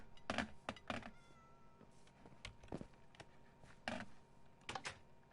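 Cat meowing in the Minecraft Bedrock video game, several short meows spread across the clip with soft clicking in between, heard alone without talk.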